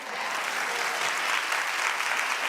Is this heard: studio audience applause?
yes